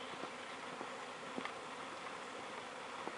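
A swarm of feral honeybees fills the air with a soft, continuous buzzing hum, faint and unbroken, with a few louder individual passes close by.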